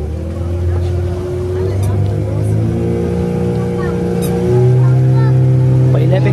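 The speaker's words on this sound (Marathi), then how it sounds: "आम्ही आता जातोय राजकोट किल्ल्याकडे आणि आता बोट निघाले" A passenger motorboat pulls away at Malvan, heading for Rajkot fort, its engine a loud steady drone that rises in pitch and grows louder near the end, under someone talking throughout.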